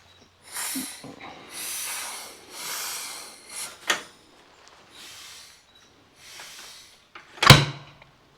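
A 1936 John Deere A tractor engine cranking with wheezing, hissing air pulls, then a single sharp, loud backfire out of the carburetor near the end.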